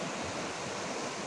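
A swollen, muddy river after rain rushes past as a steady, broad roar of flowing water, close and unbroken, with no voices.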